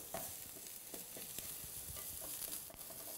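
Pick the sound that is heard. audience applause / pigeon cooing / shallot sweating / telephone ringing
shallot sweating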